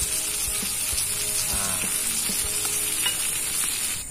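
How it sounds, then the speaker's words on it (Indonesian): Fish fries in hot oil in a pan while cooking outdoors in the wild, giving a loud, continuous crackling sizzle with scattered pops and faint scraping throughout. "itu sedikit infonya, tips menggoreng ikan"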